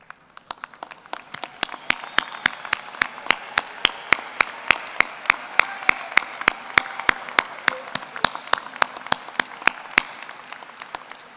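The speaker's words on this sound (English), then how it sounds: "give a round of applause to your loved ones" Graduates at a university commencement ceremony applaud their families, with a broad crowd wash of clapping under a sharp, steady, evenly spaced beat of loud individual claps running throughout.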